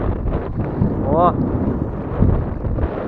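Strong wind buffeting the microphone while fishing outdoors, a steady loud rumbling roar throughout with someone talking over it.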